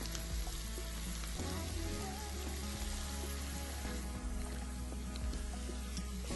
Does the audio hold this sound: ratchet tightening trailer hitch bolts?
no